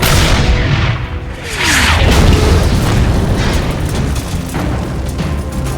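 A German 88mm gun firing armor-piercing shells in wartime, heard as loud booming blasts and rumbling explosions over a dense, continuous battle din, with no talk.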